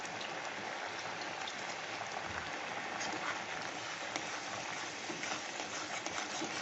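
Prawns cooking on high heat in a pan with butter and garlic, giving a steady, dense sizzle that holds evenly throughout with no talking.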